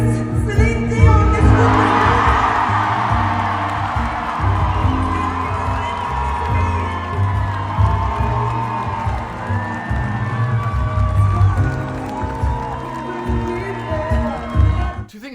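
A concert audience in Vegas cheers and whoops, a loud roar of crowd noise that swells early and then slowly fades. Music and a voice carry on beneath it.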